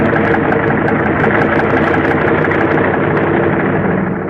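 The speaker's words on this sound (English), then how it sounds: "The sound of the engines warming up starts before dawn" Loud, steady roar of bomber aircraft engines warming up before dawn at an Aleutian airfield, a constant rumbling drone, dense and continuous with no voices.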